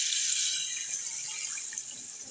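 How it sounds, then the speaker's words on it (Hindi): A cup of water being poured into a cooking pot of spiced oil while making halwa puri potato curry, a steady bright splashing pour heard close up with no talking. "अब इसमें हम 1 प्याली पानी डाल रहे हैं।"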